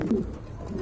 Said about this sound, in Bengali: আরেক জোড়া কবুতর মাশাআল্লাহ খুবই সুন্দর